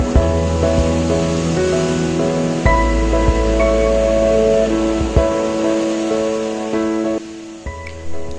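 Foaming sea waves wash continuously onto Velsao Beach in Goa, a loud, steady roar with a few sharper surges and crashes throughout.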